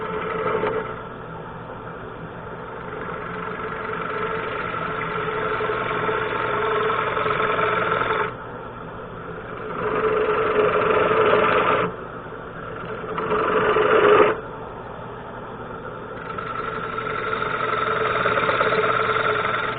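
A bowl gouge cutting wood on a turning lathe gives a steady grinding, buzzing hum that swells and eases several times as the tool engages and lifts off, close and continuous with no talking.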